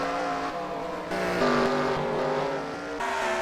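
ARCA race cars in a racing video game roar toward the line, several engines droning loudly and steadily with shifting pitch as they pass close by, with no talk.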